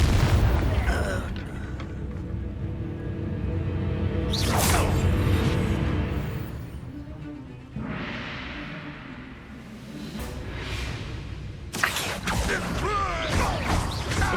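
Incendio fire spell cast in Hogwarts Legacy, whooshing bursts of flame with booming impacts and mechanical creaks amid combat, fairly loud and repeated across the scene.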